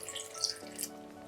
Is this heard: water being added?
yes